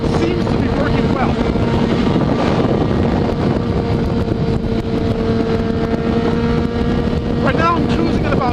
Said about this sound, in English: this bike is fitted with a power commander and an aftermarket exhaust